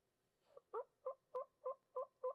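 A man imitates a wild turkey gobble with his mouth from a front porch in Appalachia, a rapid string of seven evenly spaced throaty gobbling notes, close and clear with no other sounds.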